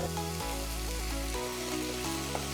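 A soft, steady sizzling of chopped tomatoes sautéing in a pan after ginger and garlic, under a quiet musical backdrop.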